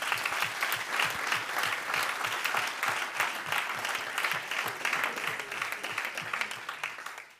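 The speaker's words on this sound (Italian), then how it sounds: "Credo che meriti ancora un altro applauso." Steady audience applause fills a conference hall at a Chamber of Commerce solidarity event in Frosinone, dense and continuous for several seconds before tapering off at the end.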